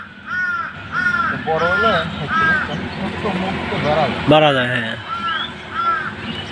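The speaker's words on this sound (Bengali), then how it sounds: "আসলে অনেকদিন প্রকৃতির এই কাকের ডাকটা শুনলাম" Several crows caw in a rural riverside setting where people are spear-fishing, the harsh calls repeating in short rhythmic bursts at moderate distance while someone speaks briefly over them.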